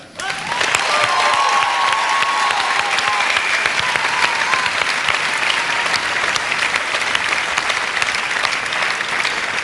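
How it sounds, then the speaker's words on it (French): A large audience applauds the sixteen Miss Suisse 2009 candidates at the pageant evening, a dense, loud, sustained wash of clapping filling the hall from start to finish. "je vous propose de commencer cette soirée en applaudissant les 16 candidates qui participent ce soir à Miss Suisse 2009"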